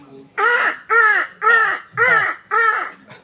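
A voice imitates a crow, giving five loud, harsh caws in an even rhythm, close and alone with nothing else around them.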